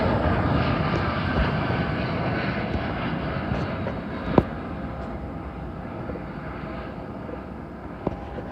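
A Turkish Airlines passenger plane flying near Heathrow Airport, a steady broad engine roar that holds loud throughout with a slight fade, no talking.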